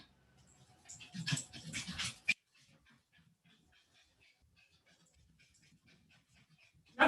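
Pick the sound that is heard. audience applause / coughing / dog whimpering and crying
dog whimpering and crying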